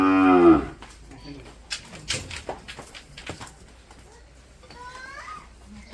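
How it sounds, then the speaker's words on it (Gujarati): Cows lined up side by side on a village farm, ready for bathing; one loud, close moo opens the moment, followed by scattered knocks, shuffling and faint voices in the background. "તો બધી ગાયો પાહે પાહે પાહે ગોઠવાઈ ગઈ છે"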